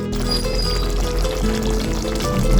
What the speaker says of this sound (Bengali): তারপরে তেল ছেড়ে গেলেই আমি জল দেব